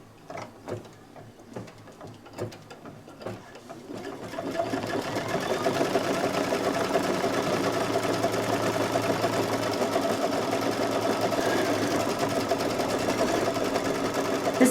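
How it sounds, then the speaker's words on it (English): An embroidery machine running a tack-down stitch on a Halloween owl placemat: scattered ticks at first, then a steady, dense mechanical whir that carries on evenly to the end. "it's going to run the tack down stitch now for the purple"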